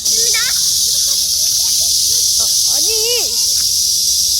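A cicada's loud, continuous high buzzing drone fills the air outdoors while children chatter and call out over it throughout.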